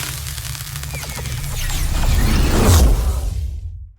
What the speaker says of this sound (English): we start out with two whooshes that just transitions from this propeller thing into the spark